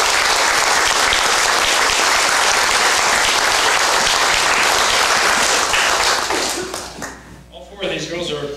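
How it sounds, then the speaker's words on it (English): Applause for student athletes at a school signing recognition event, with dense, loud clapping from a crowd that continues steadily before fading out, then a voice starts speaking. "let's give a round of applause to Addison Lee."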